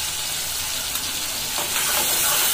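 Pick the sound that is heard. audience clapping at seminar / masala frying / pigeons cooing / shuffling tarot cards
masala frying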